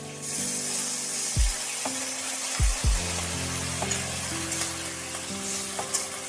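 Mixed vegetables with drumstick stalks, potato and jackfruit seeds sizzling in a hot pan, with a few sharp hissing bursts as water splashes in among steady frying crackle and stirring scrapes.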